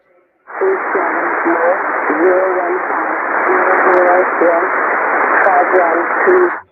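Shannon Volmet aviation weather is received on 13264 kHz shortwave, a continuous hiss-laden voice broadcast with steady static filling the band, clear and fairly loud for several seconds.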